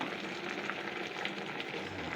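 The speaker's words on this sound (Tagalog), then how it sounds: "Buhos na natin yung gata." Coconut milk being poured into a hot pan for a rural home-cooked dish sizzles and hisses in a steady, close, even wash, with no talking over it.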